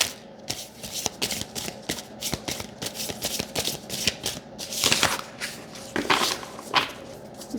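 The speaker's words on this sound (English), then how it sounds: "Do I need to keep shuffling? Why, yes." Tarot cards being shuffled by hand during a card-spread reading, giving close, rapid riffling and slapping bursts in an uneven rhythm, with several louder snaps toward the end and no talk.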